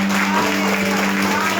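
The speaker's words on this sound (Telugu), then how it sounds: "అందరూ చప్పట్లు కొట్టి ప్రభు" A congregation at a Sunday church worship service claps together, a dense, steady burst of applause over a sustained tonal hum, close and loud throughout the short stretch.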